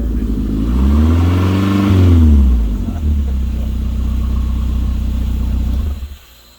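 A Shelby GLHS clone car's engine runs and revs up, its pitch rising and falling around two seconds, then settles into a steady loud rumble as the car drives off before cutting out near the end.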